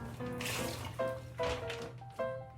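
Water rinsing a shower curtain liner in a shower, a continuous close splashing and trickling wash with several louder gushes as the flow shifts across the plastic.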